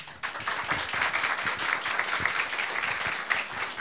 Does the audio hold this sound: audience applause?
yes